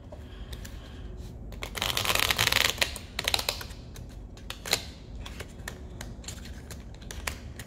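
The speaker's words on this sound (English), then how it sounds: "shuffle this deck. And see what I get." A deck of playing cards being shuffled up close, with a dense riffling burst around the middle and scattered crisp card flicks and taps before and after, no talk.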